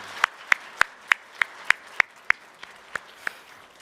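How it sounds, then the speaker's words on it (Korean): A church congregation claps steadily and evenly, about three claps a second, sounding moderately distant and soft, with no voices, after a Sunday sermon prayer. "주께 박수로 영광 돌립니다."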